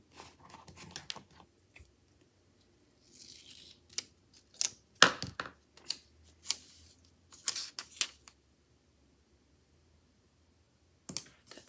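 Scissors cutting a sticker sheet for an Erin Condren monthly planner, a series of sharp, close snips and clicks in irregular bursts with quiet gaps between them.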